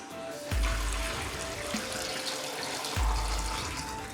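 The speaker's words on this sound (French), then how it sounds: "Et là, je vais rajouter de l'eau bouillante." Boiling water is poured into a glass jar of tomatoes, giving a steady close-up splashing and gurgling stream that lasts the whole clip with no talk over it.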